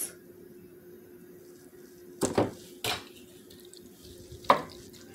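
Heavy whipped cream being stirred in a bowl for chicken flautas: a few scattered scrapes and clinks of a utensil against the bowl, close by over a low steady hum.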